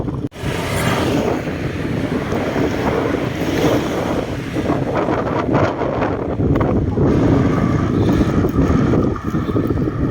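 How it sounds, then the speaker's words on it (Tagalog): Strong wind roars steadily across the microphone at Burgos, Ilocos Norte, Philippines, for the whole stretch, with surf-like rushing and gusty buffeting, loud and close, no talking. "Dito malakas sa lubong ng hangin dito eh."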